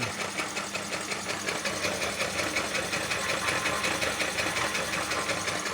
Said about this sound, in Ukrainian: Будемо тепер всі косточки перемелювати, голови.